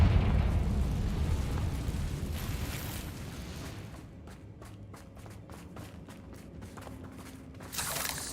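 A Confringo fire spell detonates in the video game Hogwarts Legacy with a loud rumbling blast that fades over a few seconds. Light footsteps and a sharp burst come near the end.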